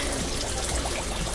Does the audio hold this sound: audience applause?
no